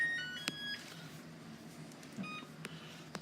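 Kitchen timer on an oven, used while baking brownies, sounding a few short, sharp electronic beeps, fairly quiet against a faint room background.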